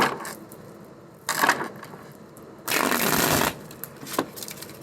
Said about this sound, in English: Now, while I'm shuffling